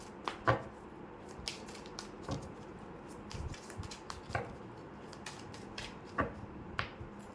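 Tarot cards being shuffled by hand make faint, scattered papery clicks and flicks in a loose, irregular rhythm, close by and quiet, with no talking.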